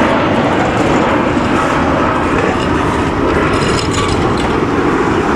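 An airplane passes overhead near the Argo Drain sub-basin water recycling facility under construction in Playa del Rey, Los Angeles, a loud, steady broadband roar that fills the whole stretch without breaks.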